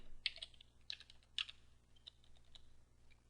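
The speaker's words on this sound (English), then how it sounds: "then you can type in your password" Fingers type a password on a computer keyboard at a login screen, a handful of crisp, close key clicks scattered unevenly over a few seconds in a quiet room.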